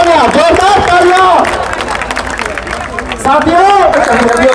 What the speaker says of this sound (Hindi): तालियां बजा दीजिए, जोरदार तालियों के साथ, और जोरदार तालियां, जोरदार तालियां।